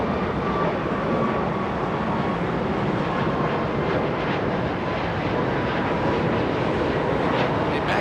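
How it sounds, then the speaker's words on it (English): A chartered Boeing 737 MAX 8 jet at Los Angeles International Airport gives a loud, steady engine roar that holds evenly throughout, with no break or voices. "Charter flight, that's 737."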